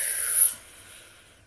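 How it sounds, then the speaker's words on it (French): A person breathes in through the mouth as though sipping through a straw, producing a half-second airy, hissing inhalation that fades into a soft trailing breath, close and alone. "Respirez par la bouche comme si vous aspiriez doucement à travers une paille."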